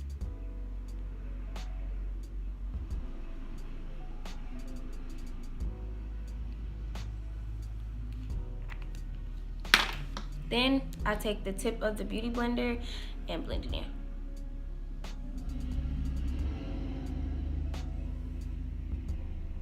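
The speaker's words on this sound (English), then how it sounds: "all these trucks is like going past my house the day I want to record" Heavy trucks drive past a house, a low, steady rumble that swells slightly as they pass, heard in the background under someone talking close by.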